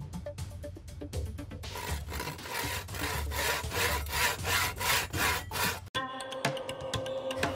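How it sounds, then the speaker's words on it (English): A handsaw cuts through wood in a run of steady, rhythmic rasping strokes, close and clear with no talk, ending in a sharp break and a short clatter. "Here is the handsaw."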